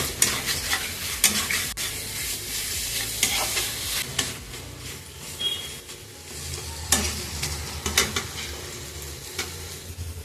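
Chicken liver is stir-fried in masala, with loud continuous sizzling and frequent scraping, clattering stirring strokes against the pan, heard up close without talk.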